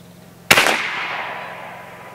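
Single sharp report from a Challenger Pro 357 PCP air rifle firing a slug, a close, loud crack with a fairly long fading tail, alone with no talk.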